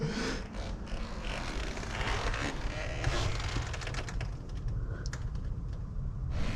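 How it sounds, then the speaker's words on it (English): A prison cell door lock and padlock are handled, giving a dense run of close metallic clicks, rattles and faint creaks that continue without pause. "So check out the way they lock this door."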